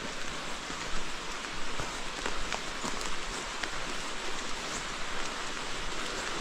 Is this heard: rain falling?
yes